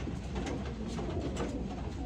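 Small hen racing pigeon cooing close by, a steady low murmur of soft coos running continuously over a short stretch, no voices.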